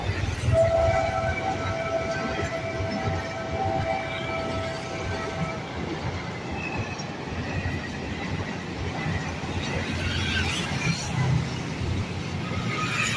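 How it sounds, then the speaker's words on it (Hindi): A train passing under a railway overbridge at Bassi, a loud continuous rumble and clatter of wagons lasting throughout, with a sustained horn blast early on. "चल दोस्तों रेल आ रही है"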